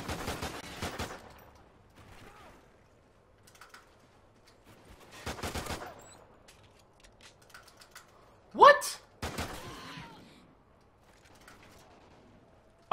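Sharp pistol shots in Call of Duty: Ghosts, a few separated bursts of clicky reports spread across quiet stretches, with a loud spike and a voice exclaiming over the action.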